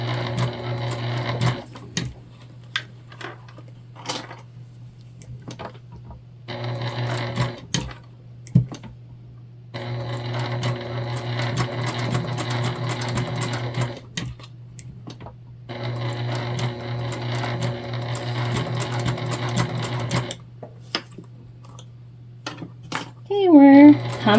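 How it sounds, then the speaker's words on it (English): A sewing machine stitches a Christmas tree pouch in several close, loud bursts of rapid whirring separated by pauses, with someone talking between and over the runs. "My fingies were getting a little bit close. Sometimes I get nervous."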